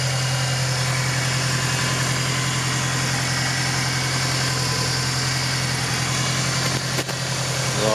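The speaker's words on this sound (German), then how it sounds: "Deswegen läuft er mit erhöhter Drehzahl." A Subaru Impreza GT engine idles at raised speed, a steady low mechanical drone with constant pitch and even loudness, close and uninterrupted except for a tiny dip near the end.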